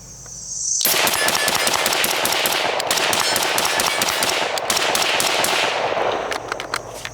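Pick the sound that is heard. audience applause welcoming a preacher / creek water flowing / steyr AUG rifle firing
steyr AUG rifle firing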